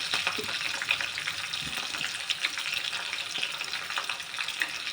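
Green chilies sizzle and crackle in hot tempering oil for a North Karnataka buttermilk sambar, a loud, steady frying hiss that stays close and continuous throughout.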